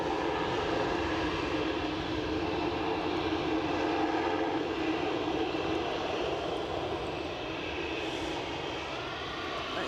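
Aircraft engines run at Edinburgh airport as a plane prepares for departure, a steady loud roar with broad rumbling texture holding evenly throughout, with no voices heard.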